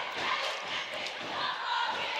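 A crowd at a high school basketball game between Davidson and Baker roars and yells around the tip-off, a dense, continuous wash of voices filling the gym at moderate loudness.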